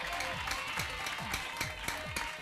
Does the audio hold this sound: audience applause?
yes